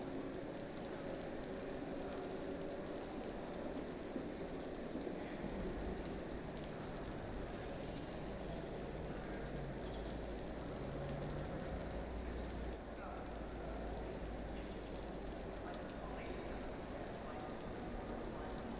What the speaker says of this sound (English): there's some rain in this session, so watch out for slippery curves and remember to brake earlier